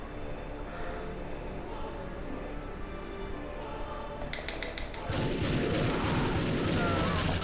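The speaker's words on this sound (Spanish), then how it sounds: "Voy a vaciar los dos cargadores." Gunfire in TimeSplitters 2 in the 1895 Notre-Dame cathedral level as two magazines are emptied, a quick cluster of sharp shots followed by a loud sustained burst of rapid fire.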